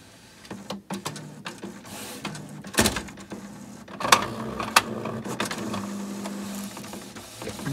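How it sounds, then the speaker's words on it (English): A home printer feeds a sheet of paper through, with bursts of whirring motor, mechanical clunks and sharp clicks forming an uneven rhythm over several seconds. "I'm going to apply and send it through the printer"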